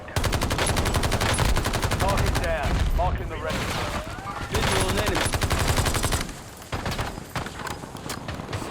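Loud, dense automatic gunfire from Call of Duty: Warzone rattles almost without pause in rapid bursts, with a brief dip near the middle and softer shots toward the end.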